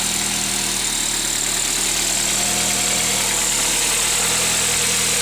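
A 1984 Volkswagen Rabbit GTI engine idles steadily with the hood open, an even, low mechanical rumble and faint hum, close by and with no voices.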